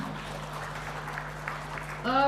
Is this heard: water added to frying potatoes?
no